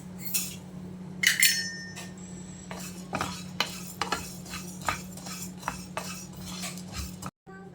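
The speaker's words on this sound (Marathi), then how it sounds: "दोन चमचे जिरा आणि अर्धा चमचा मेथी दाणे घेतलेले आहेत हे भाजून घेऊया" Coriander, cumin and fenugreek seeds dry roasting in a pan, stirred with a spoon. Irregular close scraping and light metallic clinks repeat over a steady low hum.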